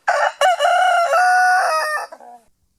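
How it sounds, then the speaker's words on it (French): A rooster crows loudly and close up in one long cock-a-doodle-doo, heard alone with no other sounds around it. "Cocorico."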